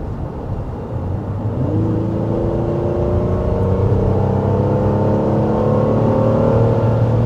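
A 2024 Honda Pilot's V6 engine runs in a smooth, steady hum that rises slightly in pitch as it pulls, heard from inside the cabin with no talking.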